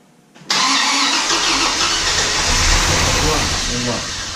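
Junkyard 1970 Plymouth Road Runner engine cranking and catching after half a second of quiet, then settling into a loud, steady, rough idle close by.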